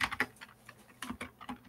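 Quick bursts of keystrokes on a computer keyboard, close and crisp, in two short runs separated by a brief pause, with no talk.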